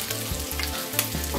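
Shrimp and sauce fry in a pan with a dense, loud sizzle and bubbling, while a low rhythmic thumping pulses underneath in regular bursts.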